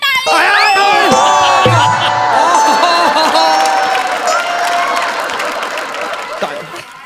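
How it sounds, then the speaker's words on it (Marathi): A studio audience at a Marathi comedy show applauds and cheers, with scattered shouts and laughter over the clapping, which fades slightly toward the end. "टाळी."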